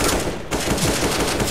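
Rapid gunfire rattles in Counter-Strike on the de_inferno map, a dense, loud burst of shots that breaks off briefly and then resumes, filling the whole moment with no talking.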